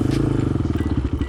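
An enduro motorcycle engine labors close up while climbing a rocky incline in Wadi Helo, a rough pulsing throttle note with gravel crunch and clatter underneath.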